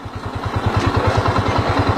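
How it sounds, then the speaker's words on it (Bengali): A motorcycle engine runs after a self-start, idling with a steady, even low thumping pulse that is close and loud throughout, with no voices. "সেলফ দিয়ে বাইক স্টার্ট হয়ে গেছে"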